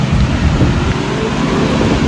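Heavy rain pours down in a thunderstorm at Heathrow, a dense, steady wash of broadband noise with low rumbling and wind buffeting, loud and continuous throughout with no talk.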